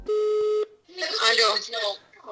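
A phone dials out with a steady tone and quick keypad beeps, followed by a person speaking nearby as the call to a realtor gets underway.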